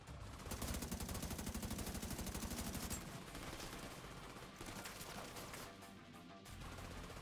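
Rapid automatic gunfire rattles in The Division 2 shooter game, a dense stream of shots for about three seconds followed by scattered further shots and impacts over a busy, noisy background.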